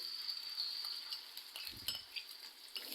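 Finely chopped medium onions hit hot oil in a kadai with a faint, steady sizzle, joined by a few light metallic clinks from stirring.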